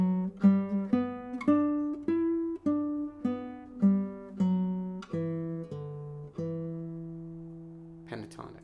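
A five-note pentatonic scale from Villa-Lobos's Prelude 4, played on guitar as clear plucked single notes stepping down one after another, each ringing and decaying, with the final note sustained longest before fading.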